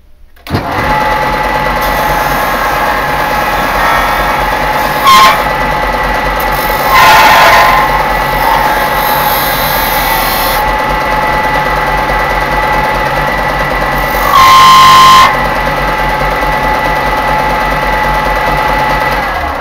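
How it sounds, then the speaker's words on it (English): A belt sander filing a small airsoft part flat, running as a loud, steady, close mechanical whir and buzz for the whole stretch, with a few brief shifts in tone where the workpiece presses against the belt, and no speech. "just file it flat, or if you've got one, use a belt sander"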